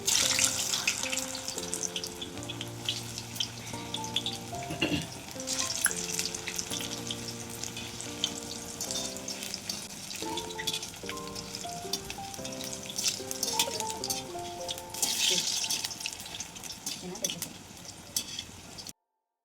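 Aloo vadi slices frying in hot oil, a steady, close sizzling hiss lasting throughout, with background music playing underneath.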